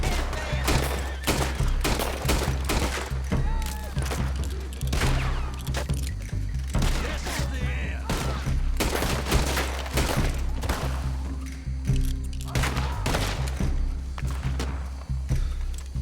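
Gunfire in Red Dead Redemption 2 cracks out as a steady, rapid string of sharp shots with thuds, repeating throughout against a low constant rumble, close and loud.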